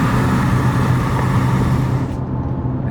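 A truck passes outside a 2023 Honda CR-V Hybrid with the window rolled down, giving a steady, fairly loud rumble of road noise that fades out near the end.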